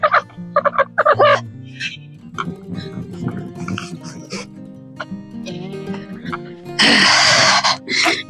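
Chickens on a snowy homestead cluck and squawk in short bursts close by, with a loud flurry near the end, while a person talks over them.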